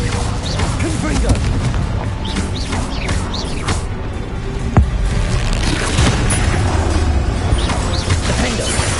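Confringo spell explosions in the video game Hogwarts Legacy: a dense, continuous barrage of booming blasts and crashes, loud and close, with a sharper bang near the middle over a constant rumbling bed.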